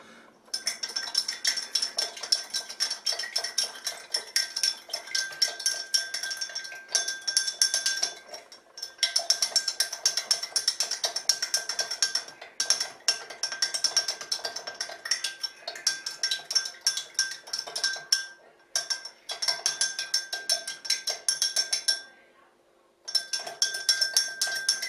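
A long spoon stirs gin and sugar in a glass, giving a steady, continuous clinking and scraping of metal on glass that runs for many seconds with a few brief pauses.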